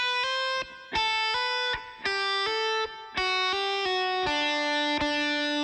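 The simple distorted electric guitar riff from a song plays alone, with sustained ringing chords changing in a steady rhythm and brief gaps between phrases.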